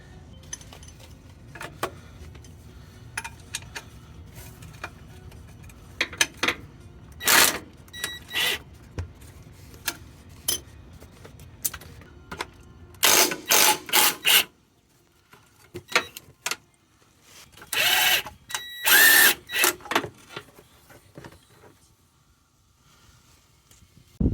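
Metallic clicks, ratchet turns and clinks of a wrench on the 14 mm transmission mount nuts on the subframe bracket of a Mitsubishi Montero/Pajero, in irregular bursts with quiet gaps between, close up and fairly faint.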